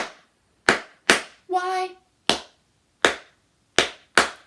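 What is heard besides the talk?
children clapping hands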